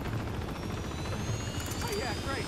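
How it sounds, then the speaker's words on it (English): A helicopter in the video game Uncharted 2 drones with a loud, steady rotor chop and engine roar, heard close and continuous with game effects under speech. "Helicopter."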